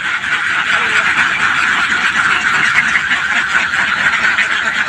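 A flock of ducks at a duck farm, their dense, continuous quacking loud and close, with voices talking beneath the din.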